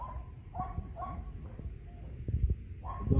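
A dog whimpers and lets out a few short, yelping barks near the microphone, thin whines recurring in bursts amid soft kitchen clatter.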